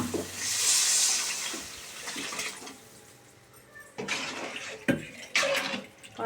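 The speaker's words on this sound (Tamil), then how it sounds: "மசாலாவோட போகிற அளவுக்கு வதக்கிட்டு புளி தண்ணியை ஊற்றிக்கணும்." Tamarind water poured into sautéed masala for a half-kilo fish curry, a broad splashing gush of liquid that swells loudly at the start, then continues as softer trickles and splashes with a few clinks in between.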